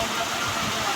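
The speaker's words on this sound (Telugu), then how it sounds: "చూసారా అక్కడ వర్షం పడుతుంది మాకు జోరుగాన." Heavy rain falls in a dense, steady broadband wash with no break for the whole second.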